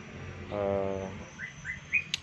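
A white-rumped shama (murai batu) nestling gives a short buzzy begging call, followed by several quick high thin chirps, fairly faint and close, with no talking.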